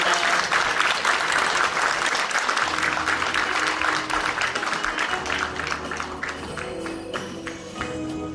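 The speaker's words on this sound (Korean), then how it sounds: "여러분 좀 큰 박수로 모셔보도록 하겠습니다" A large audience breaks into loud, dense applause at a Korean gathering, holding strong for several seconds before thinning out toward the end.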